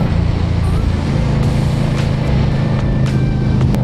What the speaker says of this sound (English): I love the sound of my bike